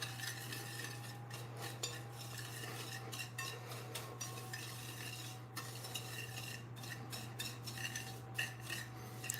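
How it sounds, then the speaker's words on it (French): A utensil stirs melted butter into cake batter in a bowl, giving soft scraping strokes in an irregular rhythm, faint and close, over a steady low hum. "Je vais mettre le beurre fondu et je vais mélanger le tout"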